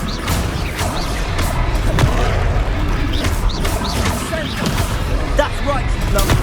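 Repeated Confringo spell explosions burst in Hogwarts Legacy combat as a series of dull booms and crashes through steady battle noise, with character voices calling out between the blasts.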